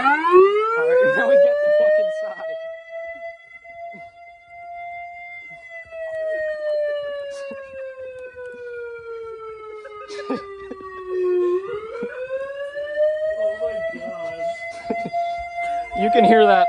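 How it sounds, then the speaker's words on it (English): A loud homemade electronic siren is tested outdoors near a trail, its tone sweeping slowly up and down in long wailing arcs with bright harmonics, with brief voices and clatter underneath. "do you want to do a siren sound that's going to be loud and annoying?"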